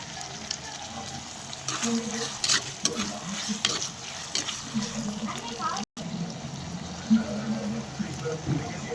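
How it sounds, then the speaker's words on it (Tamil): Tomatoes sautéed after garlic and stirred in a pan for a soya gravy make a soft, continuous sizzle broken by repeated scraping stirs, with one abrupt dropout in the middle. "அடுத்து தக்காளி போட்டு வதக்கி விடணும்"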